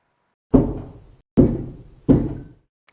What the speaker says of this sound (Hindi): फिर से उसको नॉक की आवाज़ आना शुरू होती है।